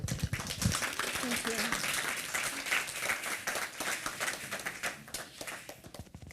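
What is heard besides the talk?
audience applause for speaker at Fungus Fair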